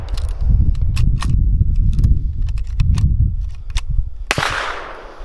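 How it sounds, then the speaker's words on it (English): A Mossberg 183 KE .410 gauge bolt-action shotgun with a modified choke is fired at an outdoor range in cold weather. Sharp metallic clicks and clacks rattle close by, followed by a loud hissing blast near the end. "So let's get back to shooting, okay?"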